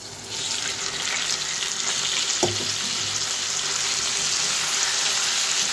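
Boiled taro stolons go into hot mustard oil with a sudden hiss, followed by steady close sizzling and frying that continues evenly with no one talking.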